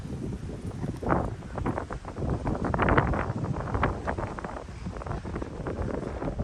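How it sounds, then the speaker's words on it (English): Gusty wind buffets the microphone in a steady roar, swelling and easing over several seconds with no one speaking. "Getting windy again around the corner."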